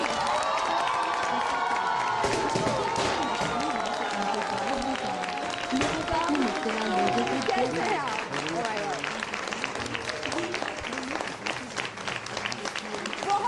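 An audience applauds and cheers as a singer makes his entrance at an interview event, dense sustained clapping mixed with shouts and whoops from the crowd, loud and continuous, with voices calling out over it.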